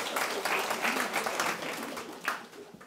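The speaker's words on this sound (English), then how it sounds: "you clap when someone says 80" An audience at a Michael Morpurgo talk applauds, a dense, steady wash of many hands clapping that fills the whole stretch and eases slightly toward the end.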